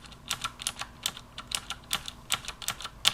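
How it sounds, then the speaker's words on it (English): Fingers typing on a Razer Black Widow Ultimate mechanical keyboard, each key giving a sharp, distinct click in an uneven, quick rhythm, close up and alone with no voices. "you can really hear a distinct click to the key on the Black Widow Ultimate"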